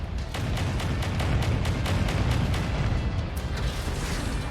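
Missile blasts in the MechWarrior video game, a dense continuous barrage of booming explosions with rapid repeated bursts, loud and sustained throughout without talk.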